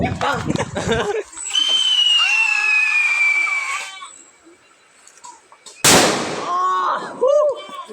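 A Supremo Special Edition whistle bomb firework shrieks with a long rising whistle, then ends in a loud, sharp bang that echoes away. Voices can be heard around the blast.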